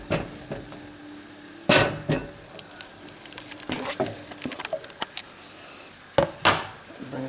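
Onions and potatoes cook in a pot for a cheesy fish chowder, with a soft sizzle beneath irregular clanks and scrapes of a utensil stirring against metal.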